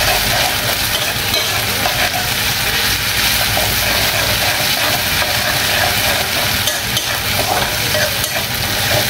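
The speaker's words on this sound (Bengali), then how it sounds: "পেস্টটা দেওয়ার পর আমি রসুন আর পেঁয়াজের সাথে ভালো করে মিক্সড করে এটা কিছুক্ষণের জন্য ভেজে নিব" Garlic, onion and red chili paste frying in a pan for a shrimp-like dried loitta fish bhuna, a loud, dense, steady sizzle with stirring scrapes throughout, close and uninterrupted, with no voices.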